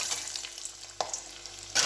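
Vegetables for fried rice stir-frying in a pan make a continuous close sizzle, with spatula scrapes and a couple of sharper clatters against the metal.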